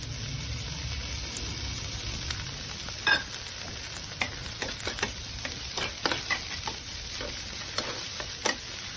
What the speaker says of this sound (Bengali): আমি এর মধ্যে বেবি কর্নগুলো দিয়ে দিলাম।